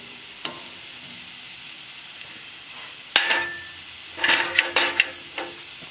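A beef T-bone steak sizzles quietly on a grill with a soft, steady hiss. Sharp metallic scrapes and clicks from cooking tools break in at intervals.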